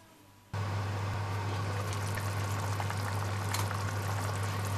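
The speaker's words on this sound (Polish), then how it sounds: "Przykrywam i na małym ogniu pod przykryciem gotuję tak długo, aż ziemniaki będą miękkie." A steady low hum with a continuous bubbling, simmering wash of water as potatoes cook on low heat in a covered pot, starting abruptly and holding evenly throughout.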